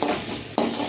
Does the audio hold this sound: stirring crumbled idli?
yes